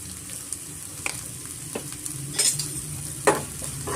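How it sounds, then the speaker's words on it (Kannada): Chicken frying with turmeric in a pan, a steady close sizzle broken by a few brief spoon scrapes and stirring taps. "ಸ್ವಲ್ಪ ನಾವು ಫ್ರೈ ಮಾಡ್ಕೋಣ"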